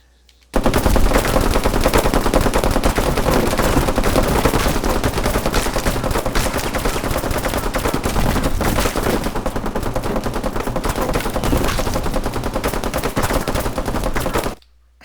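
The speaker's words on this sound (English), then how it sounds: "They're going to be firing at me, and maybe some of their bullets will hit these things, but the squibs are firing" A nonstop, dense roar of automatic gunfire and squib charges going off in a video game scene, loud and constant for about fourteen seconds, then cutting off abruptly.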